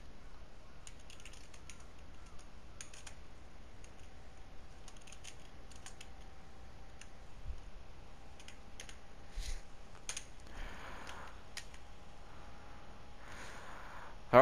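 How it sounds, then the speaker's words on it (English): Steady rapid typing on a computer keyboard connected to a PS4 Pro, close and clear, with a faint steady tone and brief louder bursts of keystrokes. "I'm always going to have to use the keyboard attached to the PS4 Pro"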